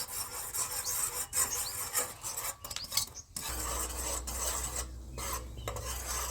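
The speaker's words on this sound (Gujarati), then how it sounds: "તો એને આપણે સતત આપણે આવી રીતના મલાવતા જ રહીશું" An orange barfi mixture is stirred steadily in a pan over low gas, a continuous scraping and rubbing with a low hum that thickens halfway through.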